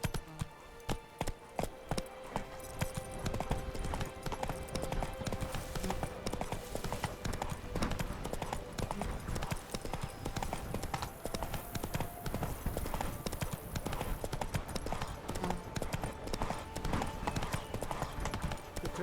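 Roach, a horse in The Witcher 3 video game, trots along with steady, close clip-clopping hoofbeats in a continuous rhythm over faint ambient background, with a brief voice near the start.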